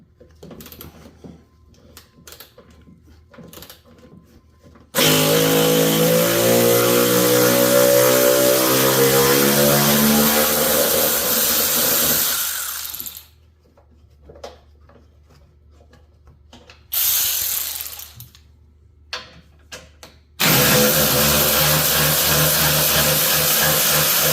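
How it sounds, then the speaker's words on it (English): Someone uses a ratchet to remove 10mm bolts from the headlight assembly of a 2008 Chevrolet Silverado, in loud sustained bursts of rapid mechanical clicking separated by quiet gaps. "Next, we're going to remove this 10mm bolt and this 10mm bolt."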